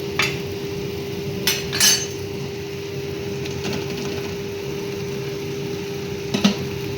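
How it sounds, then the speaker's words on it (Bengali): Fried cauliflower and potato tipped into masala in a pan for a Bengali curry, sharp metal spoon scrapes and clatters at the start and end over a quiet low hum, with no talk. "এবার আমি ফুলকপি আলু ভাজাটা দিয়ে দেবো এর মধ্যে।"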